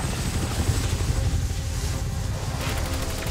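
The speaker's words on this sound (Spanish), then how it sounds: "Helicóptero aproximándose para el depósito." A helicopter approaches in the video game Call of Duty Modern Warfare, a loud, dense rotor and engine roar with rapid pulsing beats, steady throughout and heard alone without talk.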